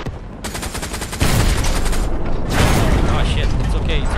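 Tank main gun fire in the World War II shooter Hell Let Loose: loud, booming cannon shots layered over a constant heavy engine rumble and battlefield din, with crew voices talking.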